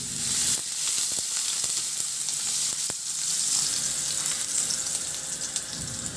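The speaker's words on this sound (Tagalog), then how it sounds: "Painit na ako ng mantika sa kawali at igisa ko na rin yung bawang at luya." Garlic and ginger sauté in hot oil in a pan, a steady bright sizzle running throughout with a few soft clicks of stirring near the start, no voices.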